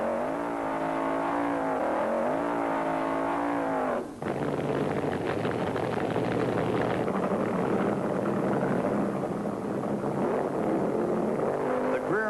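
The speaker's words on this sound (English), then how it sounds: "The burnouts are wild." Funny car drag racers roar through burnouts at a 1974 IHRA eighth-mile event in Charlotte, with Ron Colson's Chi-Town Hustler in a semifinal pairing. The engines are loud and continuous, with rising and falling revs over a steady, dense roar.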